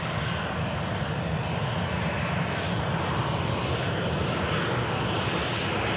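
A KLM airliner arriving at Manchester Airport gives a steady, loud, broadband jet engine roar that holds evenly throughout, close by and with no voices.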